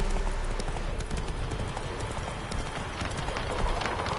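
Horse hooves gallop in The Witcher 3: Wild Hunt, a dense continuous clip-clop of rapid hoofbeats, loud and close under a wash of ambient game sound.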